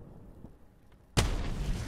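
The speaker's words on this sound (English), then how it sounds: "We can try to throw another grenade here into the house." A grenade blast inside a house in a World War 2 strategy video game lands as a single sudden loud burst after a quiet lull, followed by a sustained rumbling decay.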